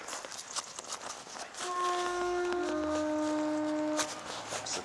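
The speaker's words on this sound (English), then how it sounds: "That's the train heading off." A train pulls away in the distance, its horn or wheel squeal ringing as a steady tonal whine for a couple of seconds over rumbling outdoor background noise.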